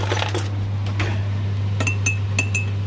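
Spoon clinking against a ceramic coffee cup while sugar is stirred in, a few quick bright taps close by over a steady low hum.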